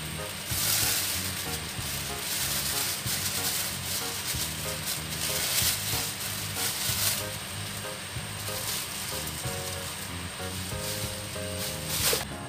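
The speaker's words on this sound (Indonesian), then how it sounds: "Jadi ini kita seperti menggoreng dengan air." Sausage roll frying in a shallow layer of water, a steady, close sizzle and hiss that keeps going through the whole stretch with small bubbling pops and no talk.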